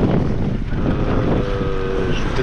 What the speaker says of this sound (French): Il y a un bon petit vent.